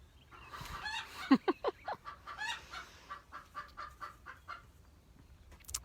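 A hen clucks in short, sharp bursts, then settles into a steady run of softer, rhythmic clucks nearby.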